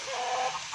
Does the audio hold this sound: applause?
no